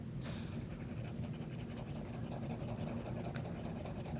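Colored pencil dragged across paper with somewhat heavy pressure, laying down red and violet in a steady, continuous scratchy rasp that runs close and fairly soft throughout.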